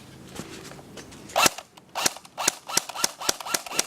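Airsoft gun firing about eight sharp snapping shots in an irregular then steady rhythm, loud and close, with no talk over the shots.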